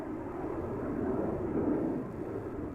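An Embraer E195-E2 jet of KLM taxiing toward the runway threshold at Amsterdam Schiphol Airport gives a steady, low, distant engine rumble that swells slightly midway, with no voices.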